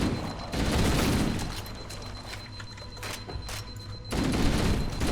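Shotgun blasts in Halo MCC boom heavily at the start and again near the end, with a low rumbling game backdrop in between, loud and close with no voices.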